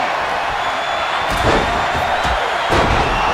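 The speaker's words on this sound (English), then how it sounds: "This crowd is thunderous right now." Loud, dense roar of a wrestling arena crowd during a Royal Rumble match in the WWE 2K25 video game, a steady wall of cheering with a few sharp swells and thuds rising out of it.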